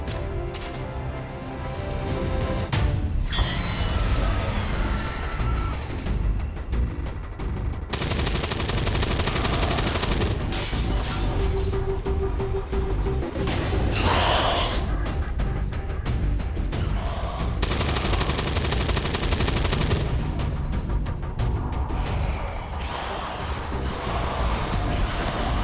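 Rapid bursts of weapon fire in XCOM 2: War of the Chosen, loud repeated volleys broken by brief pauses, layered over game music and effects with no clear speech.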